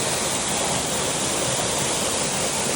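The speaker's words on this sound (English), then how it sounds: "And here we're looking at the Mossbury Falls." Mossbrae Falls near Mt Shasta roars in a steady, dense wash of falling water, loud and continuous with no break or voices.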